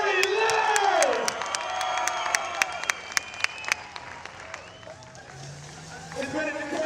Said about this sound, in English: Put your hands together in second position for Barry Leonard.